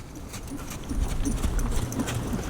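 Hooves of a ridden horse during a training session beat in a steady, uneven clip-clop on soft ground, moderately close, alongside some rustling and no speech.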